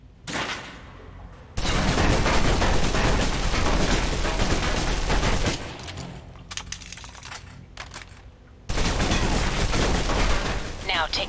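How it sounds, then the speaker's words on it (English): Sustained automatic gunfire from Alpha Protocol empties a clip in long, loud continuous bursts separated by brief pauses, with a short stretch of quieter shots in between. "Now let's empty the clip. Let you get a feel for the recoil."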